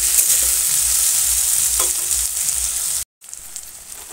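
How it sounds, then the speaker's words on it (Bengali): Chopped onions fry with salt in a pan, giving a loud, steady close sizzle with a few faint stirring scrapes. The sizzle cuts out abruptly near the end, then returns more quietly. "লবণ দিয়ে পেঁয়াজটা বেশ ভালো করে ভেজে নেব"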